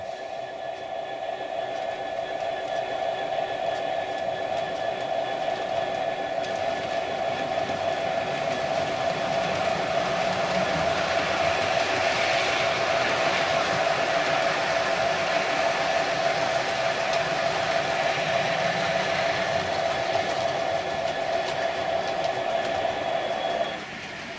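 A container train hauled by locomotive 66727 rumbles steadily past nearby for the whole stretch, a continuous loud roar of wagons with a faint hum and rattle, ending abruptly.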